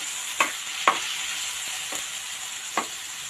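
Chopped tomato and garlic sizzle steadily in a hot frying pan, with a few sharp scrapes and clinks of a spatula stirring at irregular intervals, close and alone without talk.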